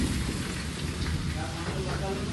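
Heavy rain pours down in a steady, dense wash with no breaks, loud and close throughout.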